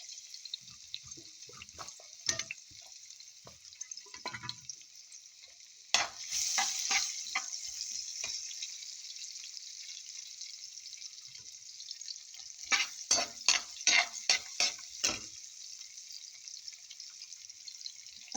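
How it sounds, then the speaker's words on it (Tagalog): Garlic drops into hot cooking oil and crackles with a continuous bright sizzle, flaring louder partway through and then popping in sharp bursts as it's stirred. "Ito mainit na yung mantika. Ilagay na natin itong bawang."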